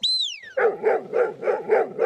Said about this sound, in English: And what a bark.